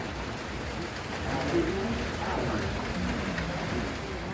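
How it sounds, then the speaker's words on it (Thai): Rain falls steadily outdoors at a riverside site in Laos, making a constant soft patter and hiss at moderate volume throughout. "ตอน นี้ก็ฝน ตก ฝน ตก"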